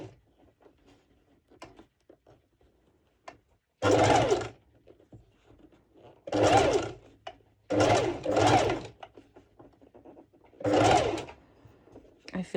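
A sewing machine stitches a seam on a two-colour sporty top with adjustable straps, running in four or five short loud bursts with quiet pauses and soft handling noises between.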